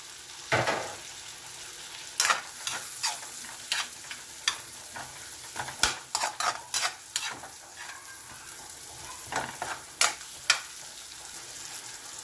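Onions go into a hot pan for a beef shank stew, giving a quiet background sizzle broken by repeated clinks and scrapes of stirring.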